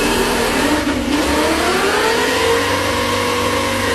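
An RC car accelerating in second gear, its electric motor whining in a rising pitch sweep that climbs steadily, loud and close with a constant mechanical drone underneath.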